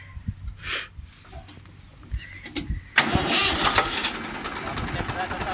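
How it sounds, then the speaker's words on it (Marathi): A tractor engine cranks and catches around the three-second mark, then runs with a steady, fairly loud rumble; brief clatter and faint voices come before it starts. "आपण ट्रॅक्टर आता चालू केलेला आहे."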